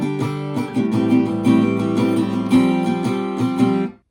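Close acoustic guitar plays the first line of a song with continuous rhythmic chord strumming for about four seconds, then stops abruptly; no talking.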